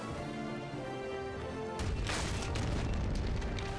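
Ship cannons firing in the Pirates of the Caribbean Online video game: a sudden loud booming burst partway through, followed by sustained rumbling, crashing blasts over steady background game music.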